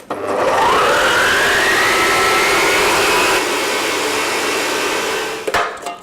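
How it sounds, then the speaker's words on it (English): Mixer whisking a Baileys and cream mixture in a bowl: a loud, close motor whir that rises in pitch as it spins up, holds a steady drone for several seconds, then cuts out with a brief clatter. "you want to whisk this all together until it becomes quite thick"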